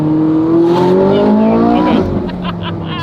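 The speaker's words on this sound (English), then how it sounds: "This car sounds so good." A deep V8 sports car engine roars and revs up, rising in pitch with a throaty rumble, loud and close with no talking.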